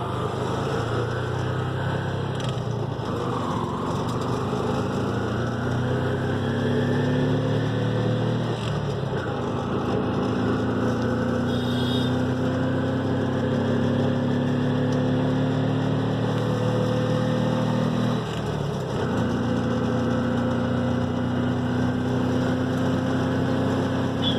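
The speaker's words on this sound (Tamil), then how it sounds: "வண்டி மூவ் பண்ணுறோம்." A TVS King auto-rickshaw engine runs steadily as the vehicle is moved after a speedometer cable replacement, giving a continuous nearby drone that stays fairly loud throughout with slight shifts in pitch and no voices.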